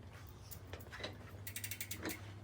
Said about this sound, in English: you'll finish it off with the pedal wrench.